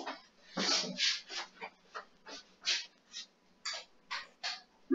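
A small dog close by makes a series of short, breathy whines or snuffles in an uneven rhythm, about a dozen bursts over a few seconds, in an otherwise quiet room.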